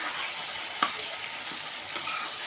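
Tomatoes cook down in a hot pan with a constant sizzle, broken by a few sharp scrapes of stirring.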